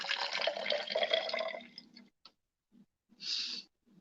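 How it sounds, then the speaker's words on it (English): Water added to a mixture during a home science demonstration: a steady rushing pour for about two seconds, then silence broken by a few faint drips and one more brief splash. "Then to this, I'm going to add water."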